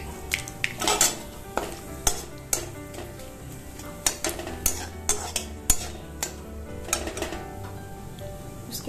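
Cumin and mustard seeds stirred in hot oil in a pan for a parwal aloo dish, a light sizzle under a run of repeated metallic spoon scrapes and clinks against the pan.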